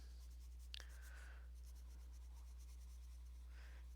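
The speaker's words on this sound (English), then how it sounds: "Of course, you can go over with your darker pencil just to darken them up a little bit" Colored pencils scratch softly across paper in short shading strokes, faint and close against a steady low hum.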